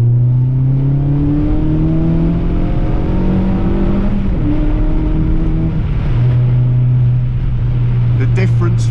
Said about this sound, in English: just the first gear from like 10 mile an hour set off, it just spins like crazy in these conditions.